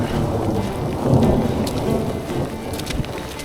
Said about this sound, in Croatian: ali samo gromovi nisu prijatni.